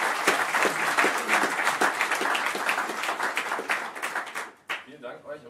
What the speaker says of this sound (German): wir machen erstmal einen Applaus